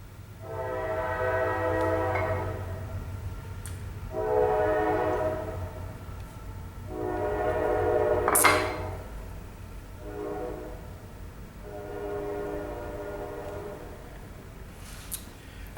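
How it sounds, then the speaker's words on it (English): A train passes close by, its horn sounding in repeated long harmonic blasts over a steady low rumble of the rolling cars, with loudness swelling and easing across the pass. "Here comes the train."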